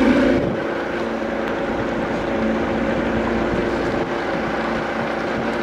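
A motorboat runs on the water during a tubing outing in Kentucky, a steady engine drone with wind and water rush, constant and moderately loud throughout, no talk.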